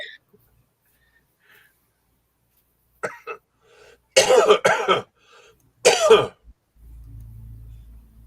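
A man clears his throat, then breaks into two bursts of harsh, close coughing separated by a short pause, followed by low background hum.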